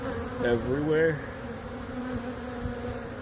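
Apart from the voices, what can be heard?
bees buzzing during removal of a hive from a roof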